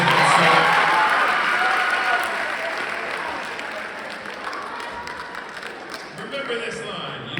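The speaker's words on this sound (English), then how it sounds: "Give yourselves a round of applause for saying that" Students at an eighth grade school assembly give a loud round of applause that fills the room, then gradually fades as a voice begins speaking over it.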